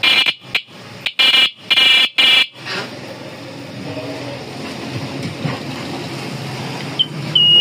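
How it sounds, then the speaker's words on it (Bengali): A vehicle horn wired up alongside a flasher blares in a rapid series of loud, steady tonal honks, about six bursts in quick succession, then stops, leaving a hum and light handling noise. "এই যে হরেন বাজাবো হরেনের সাউন্ডটা শুনেন"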